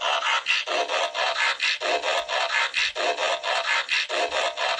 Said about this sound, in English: Let's see if I can hit some transformation noises here.